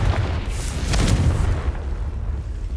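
The Confringo blasting spell from Hogwarts Legacy goes off as a deep, booming explosion with a rumbling tail, loud and close, lasting a couple of seconds with no talking.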